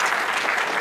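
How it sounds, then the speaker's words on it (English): An audience applauds at a podium interaction session, a short, dense burst of clapping that stays steady and fairly loud from start to finish. "So a huge round of applause to all of you for having joined us."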